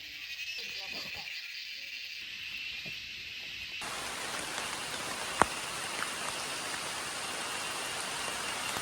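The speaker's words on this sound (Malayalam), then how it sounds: "വന്നപ്പോൾ തൊട്ട് മഴ ഇടയ്ക്ക് പെയ്യും തോരും" Rain falls on and around a tree platform being built from areca palm wood, a steady broadband hiss that thickens after a few seconds, with one sharp knock partway through.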